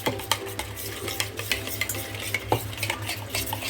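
A spoon stirs turmeric and other spices into a pan of paneer tikka masala, with steady scraping and clinking of utensil against the pan over a low sizzling hum, close and continuous, without any voice.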